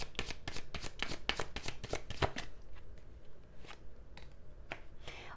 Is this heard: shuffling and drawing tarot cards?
yes